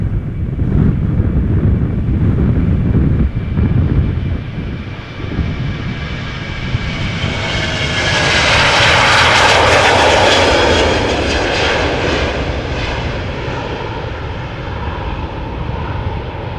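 A Boeing 737-800 jet passes at Amsterdam Schiphol Airport, its engines a loud broad roar that swells into a rising whine near the middle and then slowly fades, with some wind buffeting and no talk.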